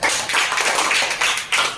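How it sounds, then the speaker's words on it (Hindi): Students applaud together in a classroom, a dense, steady patter of many hands clapping at once that swells and dips slightly over the short burst, with no talk over it. "सही है, ताली बजाओ।"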